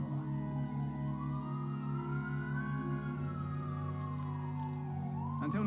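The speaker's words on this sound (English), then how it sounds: "I apologize for the sirens." A police siren wails in long rising and falling sweeps over a low steady drone, loud and continuous, with no voices, during play of the game Metaphor: ReFantazio.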